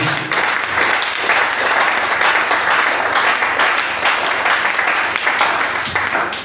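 A church congregation applauding during a worship service, sustained loud clapping from many people filling the space, steady throughout without a break.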